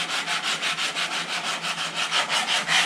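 A wide sanding block worked back and forth along a carved wooden guitar neck, a steady rhythmic rasp of about a dozen even strokes, close and loud.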